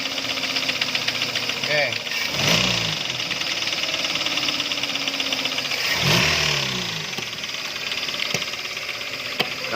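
A Toyota Avanza with a 3SZ engine runs with a rapid metallic knocking ticking over its idle hum, swelling twice with short revs; a voice speaks briefly over it.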